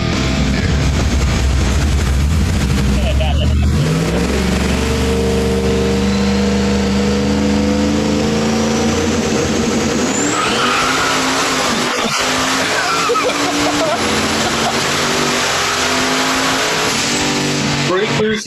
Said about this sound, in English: this thing just does the sickest dyno pull